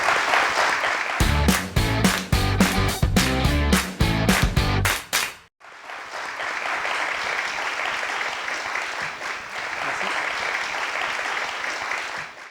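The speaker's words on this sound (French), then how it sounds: "on peut l'applaudir" Audience at a 2018 general assembly broadcast clapping steadily, dense and close. It follows a burst of music with a rhythmic beat that cuts off abruptly, and no voices are heard.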